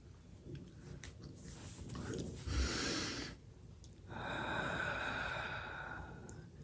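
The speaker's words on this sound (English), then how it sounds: "Take another couple deep breaths." Slow, deep breaths during a calm tapping session, each long airy inhale and exhale heard up close and alone in a quiet room.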